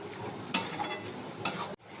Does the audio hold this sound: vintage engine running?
no